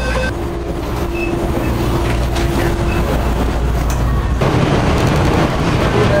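Steady rumbling of a train carriage in motion, heard from inside, with a constant low drone that shifts in tone partway through.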